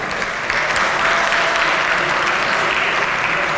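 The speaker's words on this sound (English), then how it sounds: "Let's give them a big round of applause." Dense, loud applause from an audience in a state legislature chamber, a continuous close wash of clapping hands without pause.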